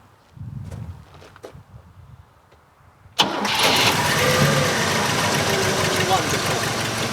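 A 1956 Cadillac engine cranks and catches after a few seconds of quieter low rumble, then roars into a loud, steady, close-up running note that holds to the end.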